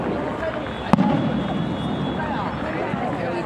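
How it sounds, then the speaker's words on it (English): Fireworks exploding outdoors in Macau near the casinos, one sharp bang standing out against a constant wash of city and crowd noise, with people talking nearby. "Uy, may fireworks, oh!"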